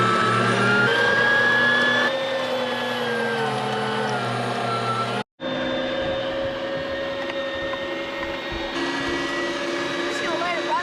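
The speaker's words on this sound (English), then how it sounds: "today our new meat grinder arrived in the mail. And I'm grinding up some meat for some bear tacos." A newly bought electric meat grinder grinds bear meat for tacos, its motor giving a loud, steady, high whine that cuts out briefly halfway before resuming at full strength.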